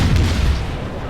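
A naval gun in a warship video game fires armour-piercing shells, one deep heavy boom that rolls and fades over about a second.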